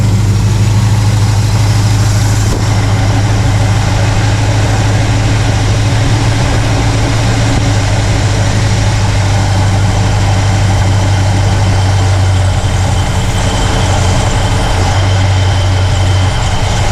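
Pontiac LeMans engine idling steadily while its carburetor is tuned, a continuous low rumble with a smooth, even pulse held close and loud throughout, with no talking.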